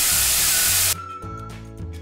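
Soybean sprouts dropped into a hot pan set off a loud, dense hiss for about a second, which then falls to a softer crackle with light scraping.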